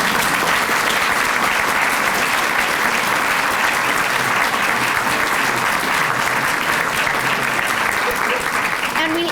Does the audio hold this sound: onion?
no